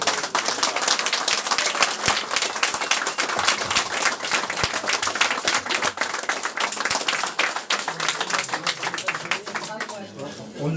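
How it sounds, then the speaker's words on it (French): Dense, continuous applause fills a room at a book fair for a young prize winner honored for her short story, many hands clapping close and loud throughout. "On l'a applaudi"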